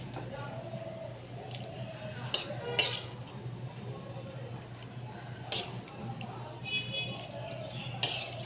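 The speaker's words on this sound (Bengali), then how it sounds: "এবার আমি একটা হাতা দিয়ে একটা পাত্রে আমি এটাকে তুলছি।" A ladle scoops cooked pea curry from a large pan into a bowl, with several sharp metal clinks and scrapes against soft wet sloshing over quiet background noise.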